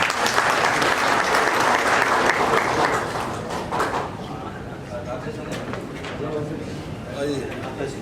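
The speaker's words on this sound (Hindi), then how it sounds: "ताली बजाते रहिए प्लीज।" Audience applause at a launch event of the Vishwa Hindu Mahasangh's Intellectual Cell, a dense, loud clapping from a crowd that thins slightly after a few seconds, with a voice speaking over it.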